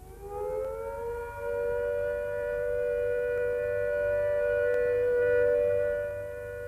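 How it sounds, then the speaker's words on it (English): A civil defence all-clear siren sounding one steady, sustained rising-then-level wail with rich harmonic tones, held at constant pitch throughout and heard alone without speech. "When the all clear sounds,"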